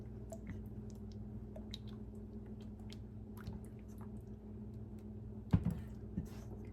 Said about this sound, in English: And as I continue to mix and as it continues to heat up